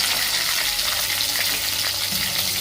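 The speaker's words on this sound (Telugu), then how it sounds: "వీటిని అన్నిటిని ఒక్కొక్కటి ఇందులో ఆయిల్లో వేసేసుకోవాలి" Stuffed brinjals coated in sesame masala sizzling in hot oil, a dense steady frying crackle close by with no talk.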